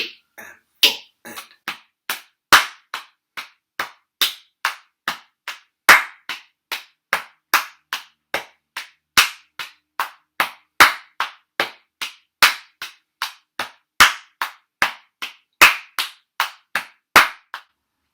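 A single performer plays a body percussion pattern of chest bass hits, thigh slaps and hand claps, sharp close strikes in a steady repeating rhythm with no voices.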